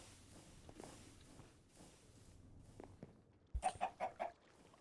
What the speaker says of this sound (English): Where are the chickens? They're in their chicken pen.